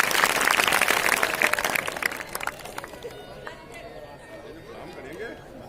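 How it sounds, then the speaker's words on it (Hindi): A large audience at a school award ceremony in an Indian inter college claps loudly, with cheering and crowd chatter mixed in. The applause is dense at first, then thins out and fades into background murmur. "एक बार जोरदार तालियां बजाएं"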